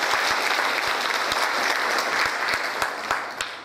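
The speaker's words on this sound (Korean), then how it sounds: "큰 박수로 부탁드리겠습니다." An audience at a Korean veterans' association security forum claps steadily for several seconds, with no voices over it, and the applause thins out toward the end.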